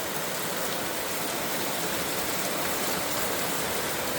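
Heavy rain pouring down outside a garage, a dense, steady, loud hiss that fills the whole stretch without pause or voices.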